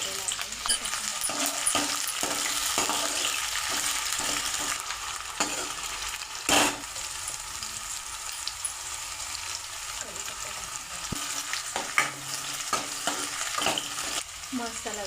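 Onion frying in a kadhai, a continuous crackling sizzle broken by repeated scraping stirs of a spatula against the metal, close and fairly quiet, with one sharper clank partway through.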